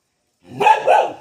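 A dog barks twice in close succession, fairly near and loud, the two sharp yelps running into each other with nothing else around them.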